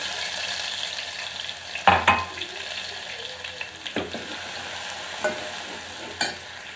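Crushed ginger and garlic dropped into hot oil in a pot, giving a steady close sizzle with a sharp burst at first and several stirring clatters afterward, without speech.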